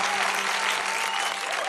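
Audience at a Christmas Eve rock and roll concert applauds, a thick, continuous wash of clapping and crowd noise that stays loud and even for the whole moment, with no speech over it.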